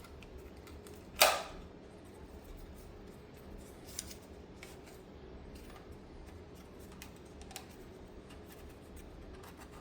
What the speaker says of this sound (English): let's go ahead and fold the Mini 5 Pro up here